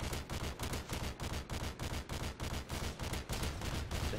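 Steady, rhythmic automatic gunfire in Modern Warfare 2 multiplayer, close and continuous with regular bursts repeating roughly every third of a second throughout.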